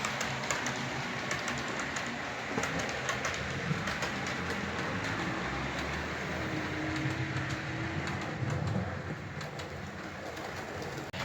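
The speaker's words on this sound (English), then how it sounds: "It's an old Bachmann Class 22 and it runs superb." An old Bachmann Class 22 model locomotive runs on a layout, giving a steady, even rolling hum and light rhythmic track clicking that holds throughout at moderate level, with faint bird calls in the background.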